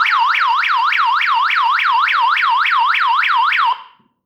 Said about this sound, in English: mute the alarm, you can mute it.